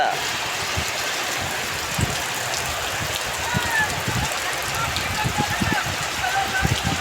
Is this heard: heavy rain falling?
yes